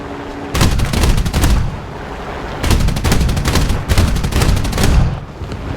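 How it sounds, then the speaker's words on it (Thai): Anti-aircraft guns in the War Thunder flight game fire at a P-39Q-5 fighter in three loud, rapid bursts separated by brief lulls, rattling and close over a steady engine drone. "โอ้เอเอเขายิงคมมากอ่า"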